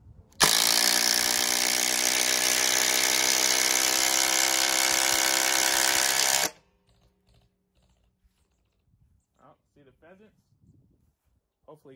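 A Ryobi impact driver with an upgraded battery drives a lag bolt in a loud, continuous rapid hammering buzz for about six seconds, then stops abruptly, leaving quiet outdoor background with faint sounds.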